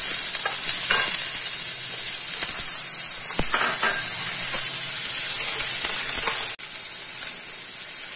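Onion and ginger sautéing in a pan for a tamarind chili dish, a continuous bright sizzle broken by scraping stirs and a few soft spatula knocks.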